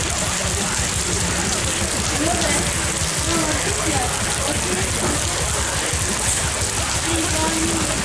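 Steady rain falling in China, a continuous close hiss of drops with a faint voice murmuring beneath it.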